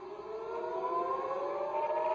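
An air raid siren over central Israel, warning of incoming Iranian missiles, wails in a steady sustained tone that slowly rises in pitch, heard from a distance and alone.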